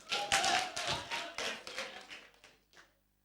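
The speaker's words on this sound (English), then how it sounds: "Clap for her." Applause from a church congregation comes as a series of rhythmic clapping bursts, fairly close. It eases off over about three seconds and ends in quiet.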